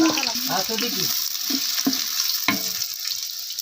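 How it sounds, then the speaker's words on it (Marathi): Chopped onion hits hot oil for a mutton curry and crackles in a loud, continuous sizzle, with a few low scrapes and clatters over the frying. "तेल चांगलं गरम झालेलं आहे कांदा टाकायचा"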